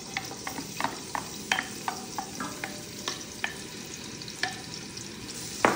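Onion fries in oil in a pot, a soft sizzle under repeated light clinks and scrapes of a spoon stirring at an irregular pace, fairly quiet and close.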